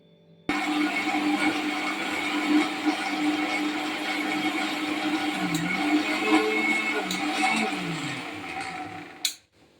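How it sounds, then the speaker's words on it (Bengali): Electric mixer grinder whirring steadily as it blends grated ingredients for green chutney into a paste, a loud continuous motor hum that starts abruptly and stops near the end. "মিক্সিতে পেস্ট করে নিই"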